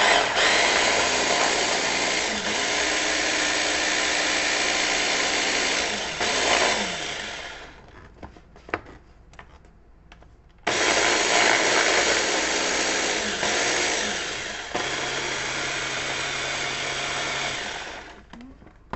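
An overheating motorized blender whirs loudly in two long runs, its steady high-pitched roar stopping briefly with clattering in between before starting again.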